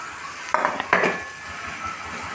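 Chopped ivy gourd drops into a pan of roasted spice powder for a kovakka mezhukkupuratti stir-fry, giving two quick clattering scrapes of the utensil against the pan over a soft, low sizzle.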